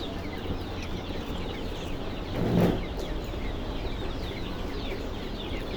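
Chickens on a small poultry farm, a dense murmur of clucking and chirping from many birds, moderately close and steady, with a brief louder burst partway through; no talking.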